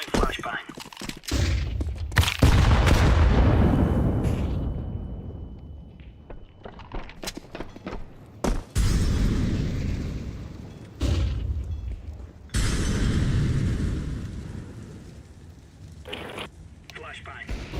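A flashbang grenade goes off in a video game with loud booming bursts and a long ringing wash, followed by several sharp cracks and renewed blasts, with a voice talking in short bursts.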